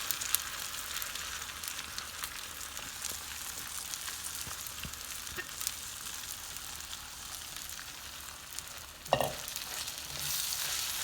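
Southern-style fried corn kernels sizzle steadily in a hot pan, a continuous bright crackle with occasional stirring clatter and a sharper clink near the end.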